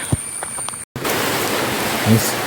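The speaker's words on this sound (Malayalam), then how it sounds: "ഇപ്പം മഴ കൂടിക്കൊണ്ടിരിക്കുക" Heavy rain falls during a night mountain hike, a steady dense hiss that carries on evenly after a brief cut, with faint voices early on.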